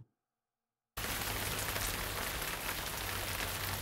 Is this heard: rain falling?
yes